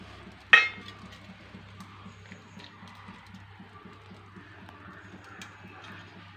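A metal vessel holding soaked henna is lifted and set down with one sharp, close clink, followed by quiet room noise and a low steady hum.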